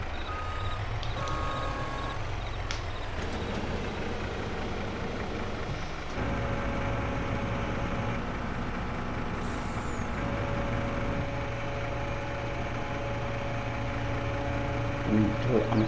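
Logging truck in the Farming Simulator 22 video game, with air brakes hissing and a steady engine rumble running throughout and the truck's beeps sounding under a person's talking.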